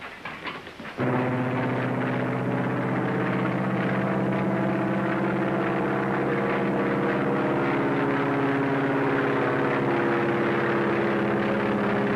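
A propeller airplane drones steadily on its approach to a desert airport, a loud, continuous engine hum with a low throb that starts abruptly after a brief quieter moment and holds for the rest of the clip.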